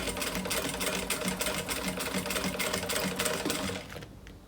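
A sewing machine runs steadily while stitching a seam on a handmade backpack, a close, continuous mechanical whir that cuts off near the end.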